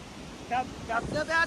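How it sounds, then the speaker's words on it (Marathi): Water rushes through a dam in a steady, broad outdoor roar, with wind buffeting the microphone and voices breaking in briefly now and then. "पाणी जास्त किती पाणी येतंय बघा"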